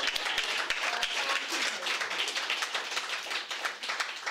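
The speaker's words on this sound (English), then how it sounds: "Round of applause for that." Audience applause at a national convention of the Uhuru Solidarity Movement, a sustained, even wash of many people clapping that holds steady throughout, moderately loud, with no speech on top.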